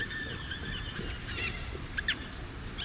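High squeaky whistling calls of otters by the Kinta River in Ipoh, a few thin chirps and one rising-falling squeal, moderately close over steady outdoor background noise.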